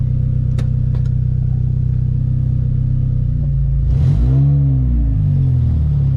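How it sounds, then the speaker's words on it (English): A Honda Civic fitted with a K24 engine drives off on its first run, loud exhaust roaring from the headers with a steady droning rumble that swells as the revs climb partway through. "It's very loud off the headers."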